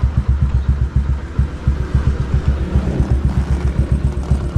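A warm motorcycle engine idles close by with a steady, chugging low rumble and regular pulsing beats, alone with no talk.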